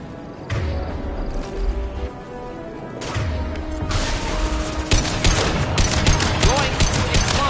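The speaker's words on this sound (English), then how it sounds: "Firing a high impact shot!" Heavy gunfire and impacts in the video game Mass Effect 2, a high impact shot among dense, loud bursts of shooting that grow busier toward the end.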